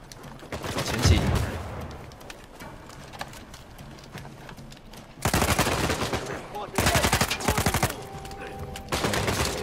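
Bursts of gunfire from Uncharted 4 rattle in quick automatic volleys, loud and close, separated by quieter stretches with game ambience and occasional talk from players.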